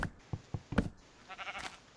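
Sheep bleating in Minecraft, a short wavering bleat near the end after a few soft knocking taps, quiet and close, with no talk over it.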